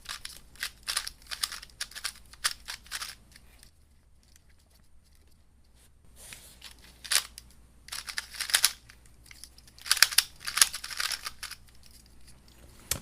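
A MoYu WeiPo WRM 2x2 speed cube is turned by hand in bursts of quick, rattling plastic clicks, close up, with a pause of near silence between the bursts.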